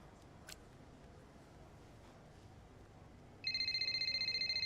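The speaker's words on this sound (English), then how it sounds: "Another phone call?" A phone starts ringing in the F1 25 Braking Point racing game story mode, a bright repeating electronic ringtone cutting in after a few seconds of quiet room ambience, loud and close.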